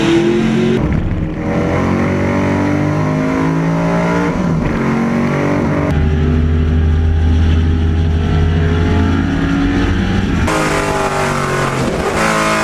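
Historic Trans-Am race cars roar past on a wet track at Circuit of the Americas during the final lap, with loud, sustained engine notes rising and falling as several cars sweep by in succession.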